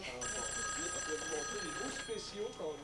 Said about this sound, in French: le téléphone ne dérougit pas